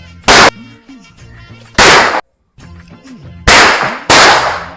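Firecrackers burst four times, each a sharp, very loud bang with a short ringing tail, spaced irregularly across a few seconds.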